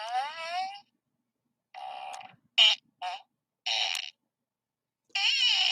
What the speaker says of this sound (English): Let's get the whoopee cushion out.